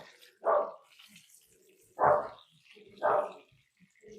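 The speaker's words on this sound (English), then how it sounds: "our dogs are just barking at everything today" Dogs bark three times in a home kitchen, each bark loud and close with pauses of about a second between, over a faint trickle of running water.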